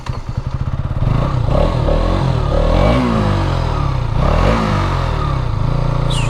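A KTM Duke 200 engine on a test ride, loud and close, with a rapid pulsing idle that rises into revving acceleration and shifting pitch, alone without speech.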